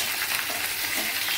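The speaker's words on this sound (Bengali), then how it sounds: "নিচের ডালগুলো লাল লাল করে ভাজা হয়ে গেছে।" Lentils dry-roast in a pan for gobindobhog rice khichuri, giving a close, continuous crackling sizzle with faint scraping stirs mixed in, and no voices.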